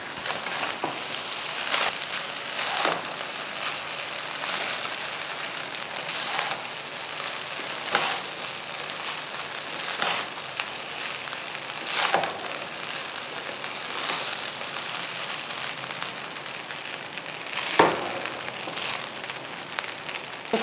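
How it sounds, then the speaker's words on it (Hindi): Chicken chilli rice being mixed in a pan over a full flame, giving a steady soft sizzle with light scraping and stirring taps spread through a long stretch, with no talk over it. "बस इसको अच्छी तरह मिक्स करते हैं।"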